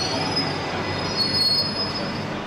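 London Underground Tube train running on the rails, a loud continuous roar with high, steady wheel squeal throughout, close and without voices.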